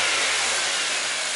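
A Toyota Corolla engine from the 1991–2010 years is revved with the radiator open during a coolant change, giving a steady, loud, breathy roar that holds for over a second with no talking.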